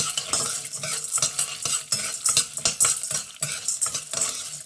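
Popcorn kernels being stirred in about two spoons of oil in a pan, a rapid, close rattling scrape of spoon and kernels in quick uneven strokes over a light sizzle, with no talking.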